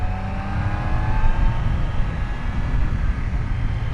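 Triumph Daytona 660 motorcycle engine accelerating on the road, a sustained revving whine rising in pitch over heavy wind rush, loud and close throughout.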